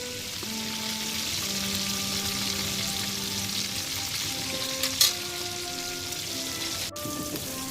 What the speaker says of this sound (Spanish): apartamos un poco la carne y echamos la bachoqueta en la paella